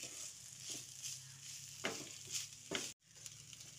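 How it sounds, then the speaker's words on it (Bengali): Rice being stirred into vegetables in a pan, a steady soft sizzle with scraping spatula strokes and a couple of sharper knocks, no talking. "রাইসটা দিয়ে সবজির সঙ্গে মিশিয়ে দিচ্ছি"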